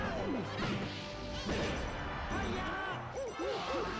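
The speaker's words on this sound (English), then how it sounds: "He F-smashed Schlimmshady and Jim Morrison" Forward smash hit landing in a Super Smash Bros. Melee doubles match, a sharp crashing impact among busy game sounds and effects, with commentary voices running underneath.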